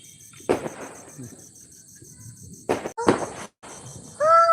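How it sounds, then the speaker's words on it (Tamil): Firecrackers burst in a few sharp, loud bangs spaced a second or two apart, with crackling tails over a quiet chirping background. "பட்டாசு வெடிக்க ஆரம்பிச்சிட்டோம்"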